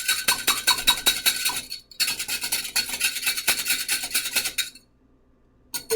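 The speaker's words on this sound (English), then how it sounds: "Whisk it." A whisk rapidly scrapes and rubs through an egg mixture in a bowl while making macaroni pie, in two fast rhythmic bursts with a short pause between, then stopping into silence.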